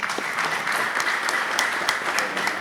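An audience applauds continuously at a concert, with dense, steady clapping and a faint crowd murmur underneath.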